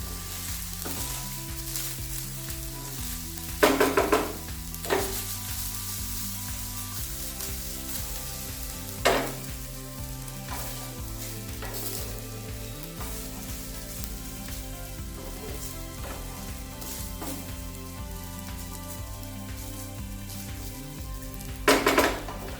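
Boiled rice tossed with capsicum and onion in a pan gives a soft, continuous sizzle, broken by several sharp metallic clanks and scrapes of the spoon against the pan.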